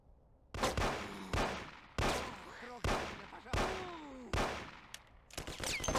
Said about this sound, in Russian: У кого-то автомат.